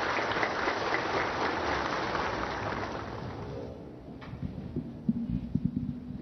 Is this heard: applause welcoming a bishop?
yes